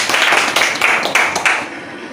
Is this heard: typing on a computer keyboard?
no